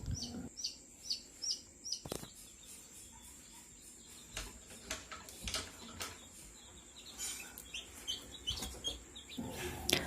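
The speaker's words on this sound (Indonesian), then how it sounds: "ini adalah ayam kampung asli yang berhasil menetas sempurna" Newly hatched native village chicks, 21 from two hens in a homemade incubator, peep in repeated high bursts, faint and close, with quiet gaps and some clicks and rustling between calls.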